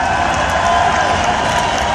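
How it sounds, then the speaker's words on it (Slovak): Audience at a Pohoda festival concert applauding and cheering after a band's set, a steady dense roar of clapping and crowd noise that holds loud for the whole moment. "Ešte raz veľký potlesk pre nich."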